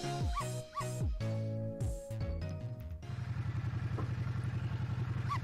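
Cartoonish dog barks and yips from the Ghost Trick: Phantom Detective video game, several quick barks over game music with a busy clattering, rhythmic backing in the second half.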